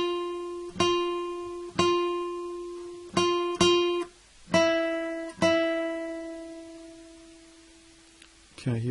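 Guitar strums a Jingle Bells chorus rhythm: a pattern of sharp, ringing chord hits followed by pauses, two quick pairs then sustained chords fading out, close and alone, with a faint sound at the very end.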